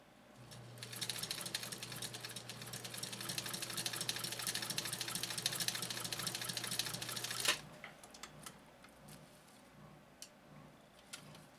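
A Japanese clone sewing machine with a 1.0 amp motor stitching steadily, a close, even whirring hum with rapid ticking for about seven seconds before it stops, leaving scattered faint clicks.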